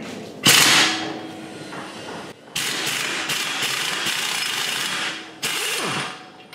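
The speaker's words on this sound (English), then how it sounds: "with my half inch impact gun" Half-inch impact gun with a 35 mm socket spinning off an axle nut during a front-wheel-drive clutch job, giving loud bursts of rattling hammering separated by short pauses, close up with no talk.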